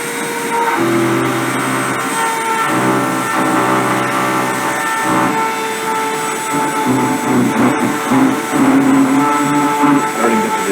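A metal deposition machine lays down a track at a slow surface feed rate with small Z feed, giving a loud, steady mechanical whine and hum with fluctuating tones, continuous and close for the whole stretch.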